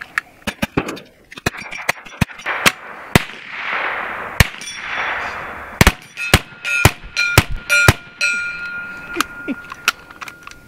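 A BIN TAC S45 semi-auto air rifle fires a long irregular string of sharp, loud shots close by, some in quick pairs and others spaced apart, with metallic clanks and rattles between them.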